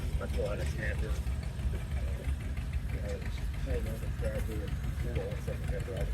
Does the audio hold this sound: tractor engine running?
yes